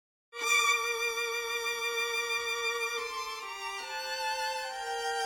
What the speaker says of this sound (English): And then we have the solo strings.